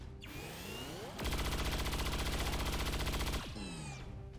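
A super heavy turret fires in the video game XCOM 2, a loud continuous rapid-fire burst of about two seconds, with quieter mechanical whirring before and after it.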